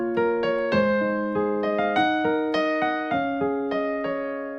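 Piano playing the first part of a song, a simple looping figure of sustained chords and single notes that ring and overlap, clear and close with no voices.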